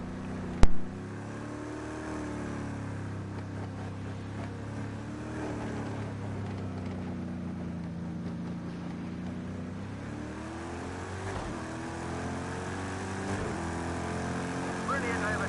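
Race cars roar around Daytona in the Project CARS 2 video game, a steady engine drone whose pitch rises and falls as cars overtake, with one sharp click near the start.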